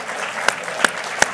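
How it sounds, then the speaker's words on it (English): A large room full of audience members applauds in a continuous wash of clapping at moderate distance, with a few sharper claps standing out above the crowd. "a giant room full of progressives just applauded Republicans"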